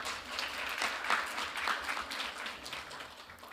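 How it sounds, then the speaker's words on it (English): Audience at an international forum on innovation and future governance applauds a presenter after her talk, a steady wash of many hands clapping at moderate distance, sustained throughout without voices. "Please give her a big round of applause once again."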